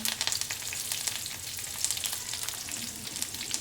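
Cashews, raisins and curry leaves sizzle in hot oil, a dense, close crackle with sharp spattering pops and occasional stirring, steady throughout without speech.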